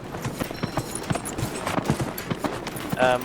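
A horse gallops in Dragon Age: Inquisition, its hoofbeats a steady rapid clip-clop running through the whole stretch, moderately close, with a brief brighter tonal effect near the end.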